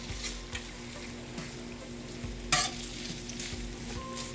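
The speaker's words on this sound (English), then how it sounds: "And you have to fry it till it's almost burned" Food frying in a de Buyer carbon steel pan over raised heat, a steady close sizzle with soft stirring scrapes and one louder clatter midway, no voices.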